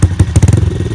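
An MSX125 motorcycle engine revs in quick throttle blips, its exhaust rising and falling in short loud bursts close by.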